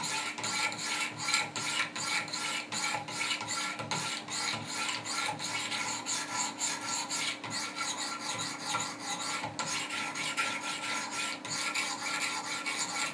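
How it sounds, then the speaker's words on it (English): Sharpening stones on a Wicked Edge guided sharpener stroke a Spyderco Paramilitary knife blade in steady alternating passes, a continuous close rasping scrape with a quick, even rhythm and no talking. "now we just start the simple process of sharpening and polishing by alternating strokes and cycling through the different grits"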